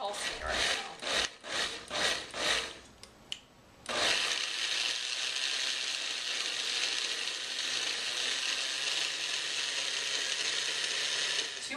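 Food processor pulsing dip ingredients: several short rhythmic bursts of whirring, then a sustained loud, steady spin running to the end.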